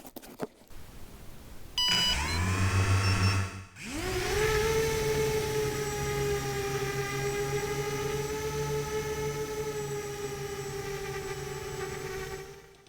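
A Bugs Bitsa mini FPV quadcopter's motors spin up on a test flight, becoming a steady, close, high-pitched whine after a short rising start.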